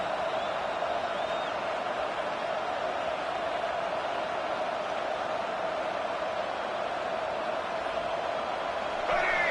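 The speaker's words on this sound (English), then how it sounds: "This crowd going to try to make life miserable for these guys" Steady roar of a packed stadium crowd at a Texas A&M vs Tennessee college football game, a continuous loud wash of cheering with no breaks.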